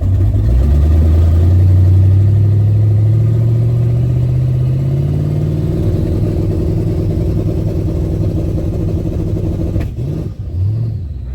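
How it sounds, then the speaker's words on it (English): A twin-turbocharged big-block Ford Fairmont engine drones loudly and steadily, pitch rising slowly, then a brief whoosh and dip near the end. "That sounds a little better, doesn't it? Sounds more like a turbo car."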